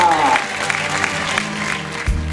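Applause at the Miss Ziemi Otwockiej 2016 pageant as prizes are handed out, a short wash of many hands clapping under loud music, with a voice at the start.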